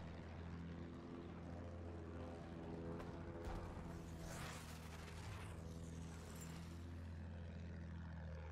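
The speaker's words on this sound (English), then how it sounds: "Enemy plane!" A propeller attack plane drones overhead in Battlefield 1 on the Sinai Desert map, a faint steady engine hum that swells and passes as the aircraft flies by, distant and continuous.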